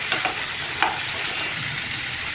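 Drumstick pieces and spices sauté in a pan for hotel-style tiffin sambar, giving a steady close sizzle with a few brief stirring scrapes and no voices.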